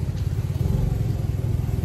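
Motorcycle engine running steadily during a ride, a close, continuous low rumble with slight throttle variation and no talking.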